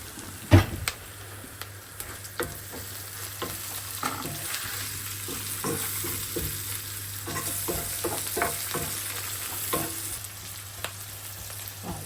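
Lamb and potato sizzle and fry in a pan for a Sri Lankan home-style dish, a steady broadband hiss with scattered sharp crackles and occasional stirring scrapes, close and continuous with no talking.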